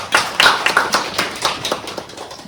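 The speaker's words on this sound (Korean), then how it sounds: "박수로 환영해 주셔서 감사하겠습니다" A seminar audience welcomes a speaker on building-integrated photovoltaics with brief applause, a small group of clearly separate hand claps, close and fairly loud, tapering off within a couple of seconds.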